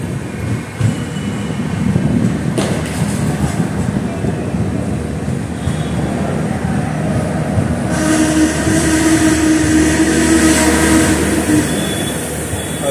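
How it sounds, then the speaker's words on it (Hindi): A train pulls in to platform one at Dungarpur railway station on the Asarwa–Udaipur line, a steady loud rumble of rolling wagons with a rising screech of wheels in the latter half and faint crowd murmur around it. "डूंगरपुर के प्लेटफॉर्म नंबर एक पे अपनी ट्रेन अराइव होते हुए"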